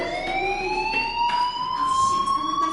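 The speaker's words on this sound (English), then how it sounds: "do you hear that fire alarm?" A fire alarm sounds in the Life Is Strange video game as a steady electronic tone that rises slowly in pitch and carries through the short clip at moderate level, with no talk over it.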